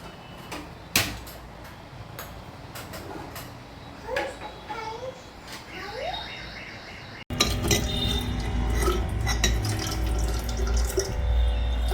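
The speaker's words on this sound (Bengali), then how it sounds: "এদিকে আমি বোতলে জলগুলো ভরে নিচ্ছি" Bottles being filled with water from a kitchen tap at home, a steady splashing stream that starts softly with scattered clinks and knocks, then gushes much louder and fuller for the last few seconds.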